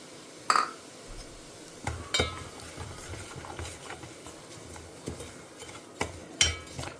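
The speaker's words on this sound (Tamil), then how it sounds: "ரவையை வறுத்துண்டுலாம்." Semolina (rava) roasting in a pan for an Ugadi lunch, stirred with a utensil that scrapes and clinks against the metal in irregular close strokes over a steady low sizzle.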